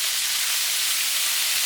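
Curry chicken wings sizzle steadily in a frying pan as they brown, a continuous close hiss of frying with no talk.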